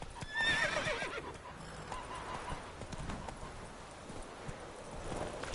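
Roach the horse in The Witcher 3: Wild Hunt gives a short whinny, then clip-clop hoofbeats keep a steady galloping rhythm, moderately close and alone.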